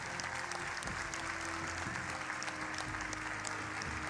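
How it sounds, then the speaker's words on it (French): A crowd at the P.G.L. dictation contest international final applauds the winners, dense steady clapping over a constant low hum and a sustained tone, fairly quiet and evenly spread. "On les applaudit!"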